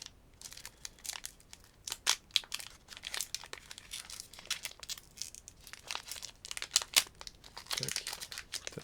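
A Pokémon card booster pack wrapper is crinkled and torn open by hand, close crackling plastic in irregular bursts throughout, with brief faint speech.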